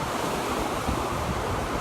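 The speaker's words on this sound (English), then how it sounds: "sorry about the wind here" Strong wind buffets the microphone at Dawlish seafront while heavy surf rolls and crashes below, a continuous loud roar of wind and breaking sea with no break.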